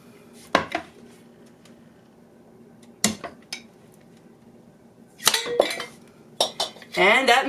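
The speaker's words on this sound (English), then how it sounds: "I open my cans with a knife. I am going to use this knife." A knife punctures and works open a metal can in a few sharp, separate bursts of metallic clicks and scrapes, close by, with quiet gaps between them.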